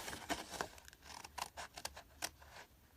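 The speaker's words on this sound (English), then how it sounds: "you're just going to take your paper scissors and you're going to cut up." Scissors snip through paper in a series of short, crisp cuts at an irregular pace, close by and fairly quiet.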